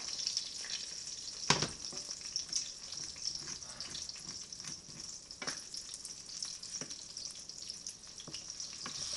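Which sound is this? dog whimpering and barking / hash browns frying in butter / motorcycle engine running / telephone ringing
hash browns frying in butter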